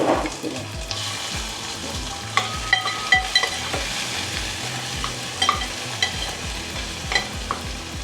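Onion sizzles in melted butter with a little garlic in a pan for a quick prawn masala. A soft frying hiss runs under frequent clinking and scraping strokes from a stirring spoon.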